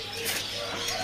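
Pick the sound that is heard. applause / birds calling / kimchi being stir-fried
birds calling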